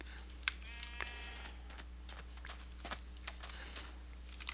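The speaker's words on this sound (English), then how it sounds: "You stupid sheep." A Minecraft sheep gives a couple of short bleats amid game ambience, with a few soft footstep-like taps scattered through the clip and no clear talk.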